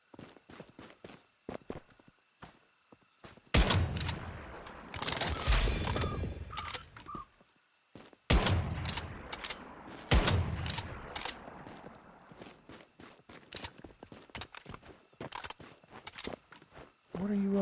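Gunfire from the survival shooter Once Human crackles in sharp, loud bursts and rapid volleys mixed with scattered single shots and footsteps, with speech at times.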